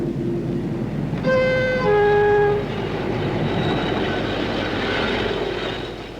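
A freight train hauling 100-ton wagons of China clay from Cornwall rumbles steadily, with a loud two-tone train horn blast sounding midway over the continuous rolling noise.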